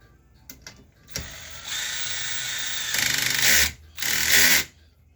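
A power driver tightens a bolt on an 8-cell lithium iron phosphate battery bank in short whirring bursts, a brief buzz followed by longer sustained runs that stop and restart, close and fairly loud with no talking.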